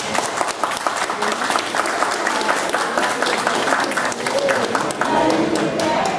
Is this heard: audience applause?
yes